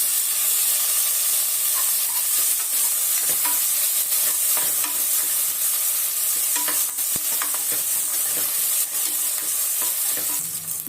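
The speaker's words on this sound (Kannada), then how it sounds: "ಒಂದು ಸಣ್ಣ ಈರುಳ್ಳಿನ ಕಟ್ ಮಾಡ್ಕೊಂಡಿದ್ದೆ ಅದು ಸೇರಿಸ್ತಾ ಇದ್ದೀನಿ ಟೊಮೊಟೊ ಹಾಕ್ತಾಯಿದ್ದೀನಿ" Chopped onion and tomato fry in a pan for mutton curry, giving a steady, close sizzle with stirring scrapes and a few sharp clicks throughout, and no talk.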